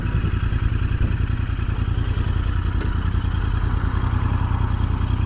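A 2019 Royal Enfield Interceptor 650 runs close by as it pulls over, its engine thudding in a steady low rhythm with mechanical clatter and whir throughout, with no speech.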